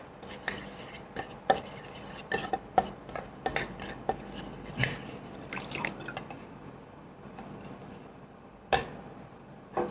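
A utensil clinks and scrapes against a bowl in a home kitchen while water is stirred into ground spices and white pepper to make a thin paste, with irregular quiet taps and drips spaced apart.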